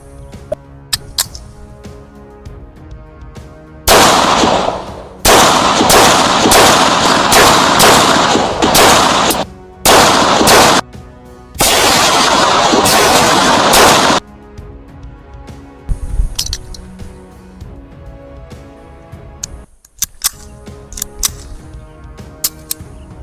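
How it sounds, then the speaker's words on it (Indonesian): A Daewoo DH380 self-defence pistol firing rubber bullets at a 7-metre target, several loud sharp shots in close succession with short gaps between them, followed by quieter handling clicks. "Baik, kita lihat tembakan dari peluru karet rubber ini."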